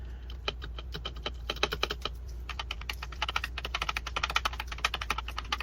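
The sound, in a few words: typing on a computer keyboard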